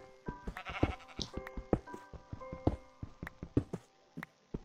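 Minecraft sheep bleat in short nasal calls beside sharp, rhythmic pickaxe strikes on cobblestone, close and moderately loud, with no talking.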